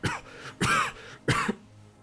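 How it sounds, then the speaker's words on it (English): A game character in Disco Elysium breaks into a coughing fit, with three harsh, close coughs spaced roughly half a second apart and a throaty rasp between them. "His hand shakes and he breaks into a coughing fit."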